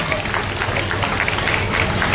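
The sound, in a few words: applause for Jack Barnes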